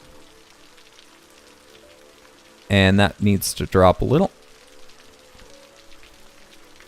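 Heavy rain falls steadily in the Cities: Skylines game, a soft constant patter under a faint hum, while someone speaks briefly in the middle of the stretch.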